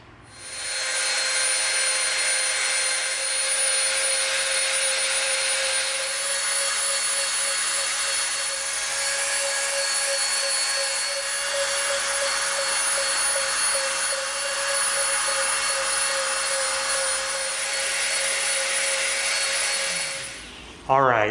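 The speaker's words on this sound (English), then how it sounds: "So let's get our dust mask on and let's do some grinding." A power tool grinding and shaping an EVA foam handle for a dart gun, a loud, continuous high whine held steady for about twenty seconds before cutting off abruptly.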